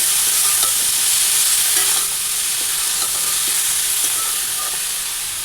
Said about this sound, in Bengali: এই যে জিরার গুঁড়ো দিয়ে ভেজে, জিরার গুঁড়ো একদম অল্প দিয়েছি